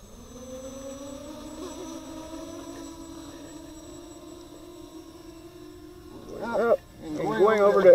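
A Walkera Runner racing drone gives off a faint, steady motor whine that climbs slowly in pitch, then sharper warbling bursts as it speeds up near the end.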